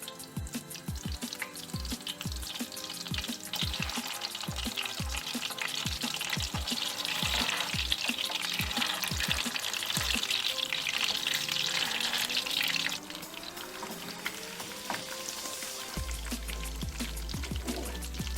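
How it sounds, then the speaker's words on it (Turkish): Tomato and pepper paste fries in melted butter and oil for a Turkish aubergine kebab, a steady loud sizzle with scraping stirs and clicks, easing slightly toward the end. "1 yemek kaşığı salçamız, domates ve biber salçamızla birlikte biraz kavuralım."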